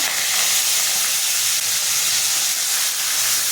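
Onions, whole garam masala and bay leaf fry in oil with a spoonful of ghee for a quick chicken keema biryani, giving a steady, loud, broadband sizzle that holds evenly throughout with no talking.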